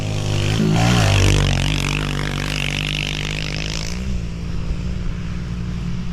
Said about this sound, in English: So I got 3 pitters and me and 2 buddies riding them right now.